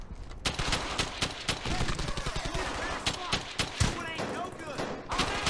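Rapid machine gun fire in Hell's Highway, a fast steady stream of loud bursts at close range with occasional heavier blasts, while someone talks over it.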